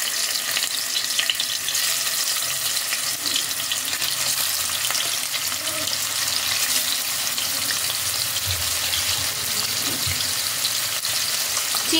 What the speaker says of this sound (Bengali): এবার এর মধ্যে আমি দিয়ে দিচ্ছি চিংড়ি মাছগুলো